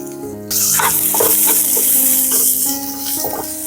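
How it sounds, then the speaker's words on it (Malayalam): Onion, green chillies and curry leaves are sautéed in a hot pan for chicken cutlet. A loud, steady sizzle bursts in after a brief quiet start and carries on with stirring scrapes. "പച്ചമുളകും കറിവേപ്പിലയും കൂടെ അതിൻ്റെ കൂടെ തന്നെ അങ്ങ് ഇട്ട് കൊടുത്ത് നല്ലപോലെ ഒന്ന് വഴറ്റിയെടുക്കാം"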